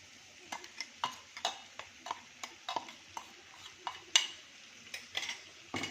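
Capsicum fry with spices stirred in a pan, a spoon scraping and tapping the metal in a steady rhythm of soft knocks over a faint sizzle.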